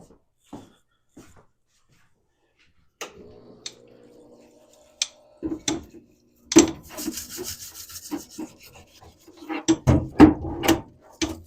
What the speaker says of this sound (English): Brush the ring lands out again after we've scraped them with solvent.